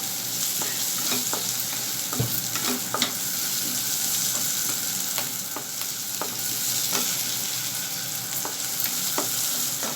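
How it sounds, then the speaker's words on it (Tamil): Onions and capsicum shallow frying lightly in oil for paneer Manchurian: a steady sizzle punctuated by scattered clicks and scrapes of a spoon stirring in the pan. "இந்த ஆனியன், கேப்சிகம் எல்லாம் கொஞ்சம் லைட்டாக ஃப்ரை பண்ணால் போதும்."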